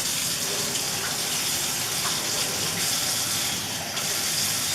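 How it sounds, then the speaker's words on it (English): Water pours steadily into a bowl of thick sourdough starter, giving a continuous close splashing gush that runs unbroken and fairly loud throughout. "I'm actually going to add a tiny bit more water to this"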